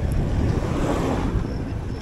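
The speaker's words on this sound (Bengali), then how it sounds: "তবে বাতাস হচ্ছে" Strong wind roars and buffets against the microphone of a DJI Osmo Action 5 Pro camera while cycling on a rough road, a steady, loud rushing noise that fills the whole moment with no voices.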